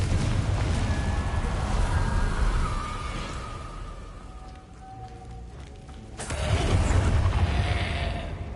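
Confringo fire spell explosions in Hogwarts Legacy, a roaring fiery blast that rumbles and fades, then a second sudden loud burst of flame and crackle partway through.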